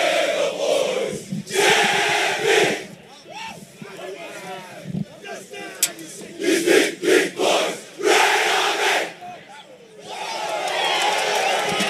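A crowd of supporters roars and chants at a schoolboy rugby match between King Edward VII and Jeppe, loud surging waves of massed voices with cheers and whoops, rising and falling across the stretch, under talk.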